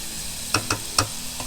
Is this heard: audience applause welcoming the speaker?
no